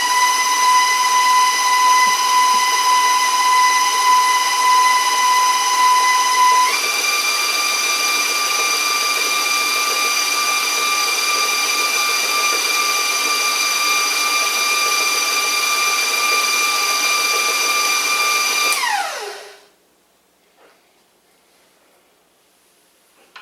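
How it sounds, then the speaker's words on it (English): Electric mixer beating blueberry coffee cake batter, a loud steady motor whine that shifts to a slightly lower pitch partway through, then winds down and stops near the end, followed by near silence. "Now, all I gotta do is get it nice and mixed into a batter."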